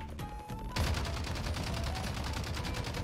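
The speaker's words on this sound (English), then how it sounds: "let's try shooting at somebody" Sustained rapid gunfire in Call of Duty: Warzone played on a Nintendo 64, rising abruptly after a quieter opening second into a steady, close burst of automatic fire with no speech.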